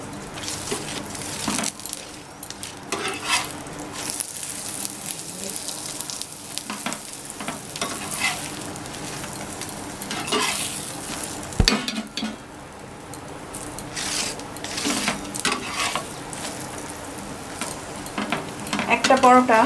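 Aloo paratha frying in oil on a pan, a continuous close sizzle and crackle with repeated stirring and scraping strokes throughout, growing louder toward the end.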